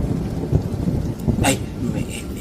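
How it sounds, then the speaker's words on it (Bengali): Heavy rain pours steadily in a stormy audio drama scene, with a low rumble of thunder underneath and a brief sharper crack midway through. "বৃষ্টি একটু কমেছে, চল ভ্যানের কাছে যাই"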